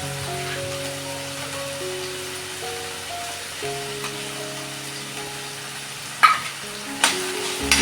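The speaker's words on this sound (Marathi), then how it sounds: "चांगलं परतून घेते" Chopped onion, tomato and moong sauté in a pan for paneer bhurji, giving a soft steady sizzle beneath background music, with a couple of sharp utensil clatters near the end.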